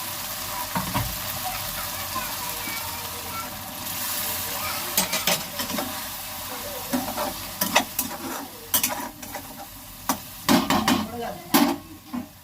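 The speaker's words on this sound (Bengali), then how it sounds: "অল্প করে একটু গরম জল দেবো যেন মশলাটা পুড়ে না যায়।" Spices frying in a pan as a little hot water is splashed in, a steady sizzle with repeated sharp clanks and scrapes of a spoon stirring, growing busier toward the end.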